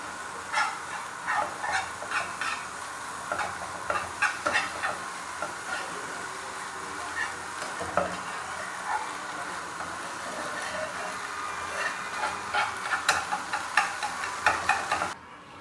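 Small chicken pieces sizzle in a pan while being stirred, with steady frying hiss and repeated scraping, clattering strokes of the spatula throughout, no voices.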